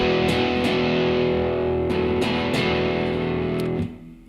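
A distorted electric guitar with its volume knob turned down plays a ringing chord with several re-picked strums, steady and full, then fades abruptly near the end; no voices.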